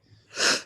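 One short, sharp human sneeze, a quiet breathy intake and then a loud airy burst, close and alone.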